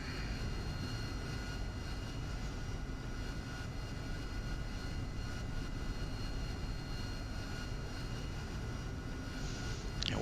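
A jet aircraft taxiing on an aircraft carrier deck in the DCS World flight simulator, heard as a steady, loud engine drone with broadband rumble and whine held evenly for the whole stretch, no voices.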